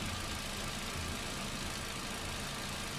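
A Hyundai Accent engine idles steadily with a low, constant rumble and faint knocking texture throughout, no voices present.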